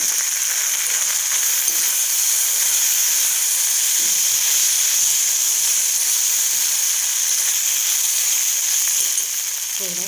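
Grated potato hits a pan of onion, green chili, turmeric and salt, and a loud, steady sizzle and hiss of frying runs unbroken throughout, with no voices over it.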